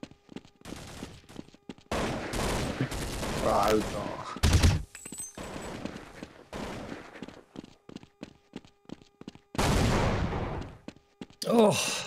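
Video game gunfire crackles in repeated bursts and volleys, with sharp loud shots alternating with quieter stretches and faint voices mixed in during a multiplayer game night.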